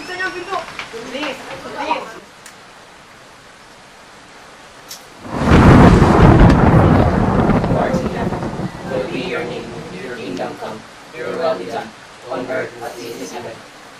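A storm brings a heavy roar of thunder, wind and pouring rain that swells suddenly and stays loud for several seconds, with people talking before and after it.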